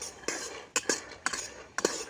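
A metal spatula scrapes and clinks against a wok of frying peanuts in four quick, rhythmic strokes, faint and close, with no talking.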